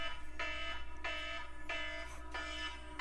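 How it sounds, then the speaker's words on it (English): A phone alarm set as a wake-up call goes off in repeated regular bleeps about two-thirds of a second apart, sounding fairly soft against a steady low hum, with no voices. "that was an alarm from yesterday to tell me to wake my ass up"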